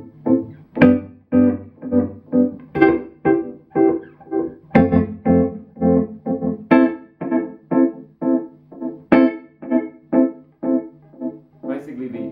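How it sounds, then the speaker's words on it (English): Guitar chords run through a tremolo feeding into a delay, heard as a steady train of rhythmic, pulsing chord stabs whose volume swells and drops in a syncopated pattern, loud and continuous throughout. "So now it's the amplitude modulation of the tremolo being fed into the delay."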